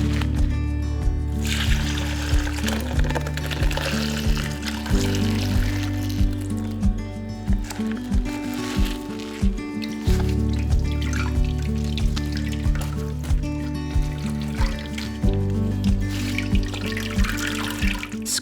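Buttermilk drips and trickles from homemade butter squeezed in a cotton sheet, a close, steady run of liquid falling with repeated soft splashes throughout, recorded in a quiet kitchen with no talking.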